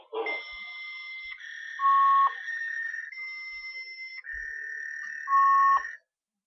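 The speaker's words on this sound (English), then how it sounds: "Ryan, what's beeping, Ryan?" A store cash register gives a series of electronic beeps: long sustained tones with two louder, higher-pitched beeps in between, clear and close.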